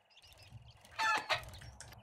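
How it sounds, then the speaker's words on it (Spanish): A chicken in the video game 7 Days to Die gives a short burst of faint, quiet clucks, with soft game background noise around it. "Mira, una gallina."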